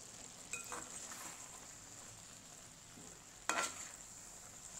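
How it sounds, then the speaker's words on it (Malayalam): Kerala aviyal with curry leaves being stirred in a pan, giving a soft steady sizzle with two brief scraping stirs, one near the start and a sharper one later. "നമുക്കിതൊന്ന് ഇളക്കി കൊടുക്കണം."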